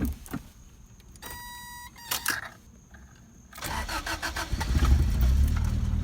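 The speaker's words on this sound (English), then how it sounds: "I'll go ahead and crank it up and let you hear it." A Toyota AE86 SR5 with a 1.6-liter carbureted engine cranks with a few whirring starter bursts, then catches and settles into a rough, loud idle with no gas.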